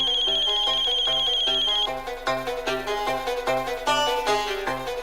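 Phone ringtone playing loudly and continuously, a repeating electronic melodic pattern with steady beeping notes that shifts to a busier tune partway through, no speech.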